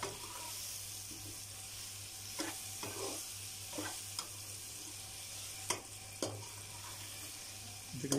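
Mutton karahi masala with tomatoes and dried coriander is stirred in a hot pan, the spoon scraping in a few distinct strokes over a steady low sizzle.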